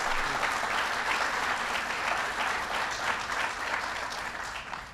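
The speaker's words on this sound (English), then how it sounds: "give Joe Biden a big round of applause" An audience claps for Joe Biden at a presidential event on jobs numbers, a dense, steady wash of applause from a large crowd that holds loud throughout and tapers slightly at the end.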